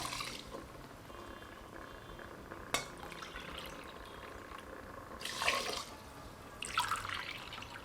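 Drumstick cooking water is poured into rice for a biryani, making a soft running, trickling liquid sound with a few brief splashy bursts and a sharp tap, and no talking.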